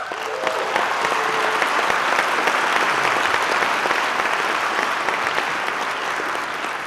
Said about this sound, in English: Very well deserving of your applause